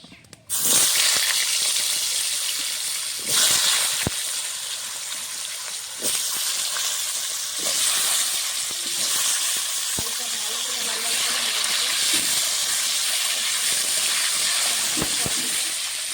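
Cut, washed potatoes drop into hot oil tempered with nigella seeds, and a loud hiss bursts out suddenly and then keeps sizzling steadily, with occasional stirring knocks.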